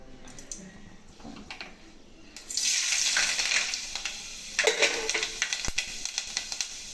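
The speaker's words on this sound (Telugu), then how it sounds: "సరిపడా నూనె పోసాను, నూనె కాగిపోయింది. మెంతులు వేసుకోవాలి ఫ్రెండ్స్ ఫస్ట్" Fenugreek seeds dropped into hot oil for egg curry: quiet at first, then a sudden loud sizzle bursts up, with crackles and a second surge of spitting before it eases to a steady hiss.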